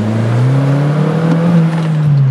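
A Suzuki Jimny engine fitted with a throttle controller runs close by with a steady, loud, droning rev and a slight rise in pitch, with no voices over it.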